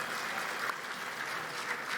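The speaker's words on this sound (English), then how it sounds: "Round of applause." Convention panel audience at PAX East clapping steadily, a dense, even wash of applause from a crowd filling the whole short stretch without a break.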